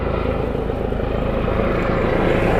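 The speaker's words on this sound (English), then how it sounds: "This jet is making a lot of noise" A private jet's engines roar steadily and loudly nearby, a dense, unbroken drone with no talk over it.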